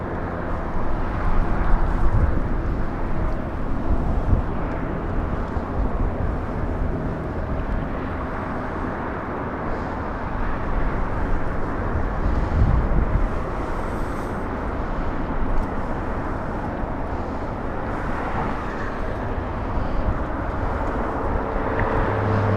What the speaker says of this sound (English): KLM heading to the gate.